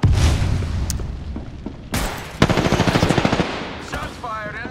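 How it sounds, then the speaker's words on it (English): Gunfire in Apex Legends: loud bursts of rapid automatic fire, a sharp crack near two seconds and then a fast rattling volley with booming impacts. "Shots fired and they're hitting me."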